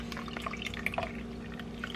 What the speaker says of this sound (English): So I just keep pressing until I stop hearing juice drip out.